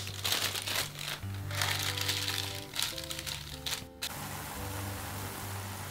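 Kitchen paper being crinkled, folded and cut with scissors up close to make a drop lid for a pot, with crisp rustles over a steady hum and faint tonal background music.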